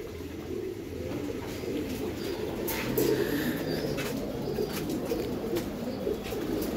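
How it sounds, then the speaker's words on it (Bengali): A steady chorus of cooing from a pair of racing Giribaz tournament pigeons and nearby birds, low and continuous, with brief sharper calls and faint clicks rising over the murmur. "এখানে এক পেয়ার কবুতর আছে"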